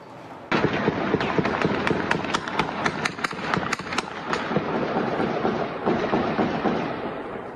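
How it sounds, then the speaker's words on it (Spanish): Gunfire from a shootout in Tijuana, Baja California, at night: a rapid volley of sharp, loud cracking shots fires in quick succession, then thins into scattered reports over a rumbling background. "Parte de la balacera registrada en Tijuana, Baja California."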